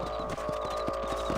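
Horse hooves clip-clop at a steady, even walking rhythm in the Red Dead Redemption video game, several close, distinct footfalls over a constant ambient bed.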